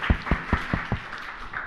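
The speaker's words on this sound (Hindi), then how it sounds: "आप ताली बजाकर अभिनंदन करें इनका।" An audience at a Jain religious discourse claps in a short burst of applause, a few distinct claps that quickly fade.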